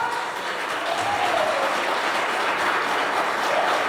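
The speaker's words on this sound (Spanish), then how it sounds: "Dele un aplauso fuerte a Jesús" Congregation in a church service applauding for Jesus: a steady, dense wash of clapping that fills the room at an even level throughout, with a faint voice or tone gliding underneath.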